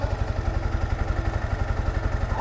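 A Yamaha MT-15 motorcycle engine idles up close during a home coolant flush, giving off a steady, low, evenly spaced thumping pulse with no talk.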